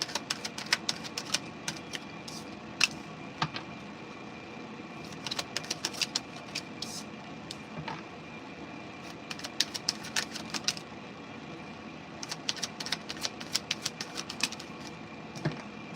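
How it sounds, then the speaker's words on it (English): A tarot card deck is shuffled in short bursts of crisp riffling and snapping cards, close and fairly quiet, with pauses between bursts over a faint steady hum. "The deck is so hard to shuffle."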